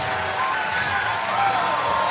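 Crowd applauding a Red Alliance win at a robotics competition, with steady, even clapping that fills the hall at moderate distance and continues without a break.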